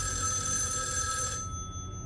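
A telephone rings steadily for over a second in the video game Erica, then cuts off, leaving a low ambient drone beneath.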